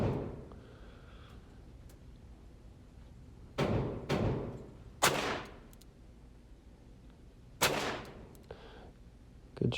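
Revolver shots fired at a bullseye pistol target range, several sharp separate reports spaced a second or more apart, moderately loud at outdoor distance, with quiet ambience between them.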